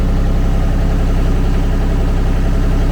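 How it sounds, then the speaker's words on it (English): A Kubota D1105 diesel engine on a Kymron XTL30 idles steadily up close, loud and even with a smooth, constant rumble and no talk. "the engine settled down, right? So it's got a very even sound"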